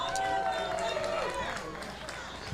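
Crowd cheering for local player Steve Kennedy at the US Open Pickleball Championships, a broad, steady roar of voices that fades slightly over a few seconds, with commentators talking over it.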